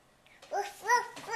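A young child imitates a dog's bark with a few short, babbling woof-like sounds, close and fairly soft.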